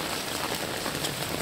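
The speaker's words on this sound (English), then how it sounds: "I've seen heavy rain here before, but I've not seen it flood quite like this before" Heavy rain floods a street in China, with water running inches deep over the footpath. It makes a dense, even hiss of downpour on hard surfaces, loud and close, and no one speaks.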